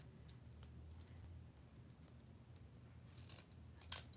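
Scissors trim frayed pieces for a handmade wreath: a few faint, crisp snips spaced apart over a quiet room hush.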